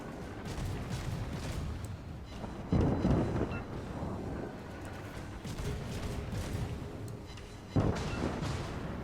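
Warship guns firing aboard HMS Haida in World of Warships, two heavy booming salvos a few seconds apart rising out of a steady engine and sea drone, with no voice over them.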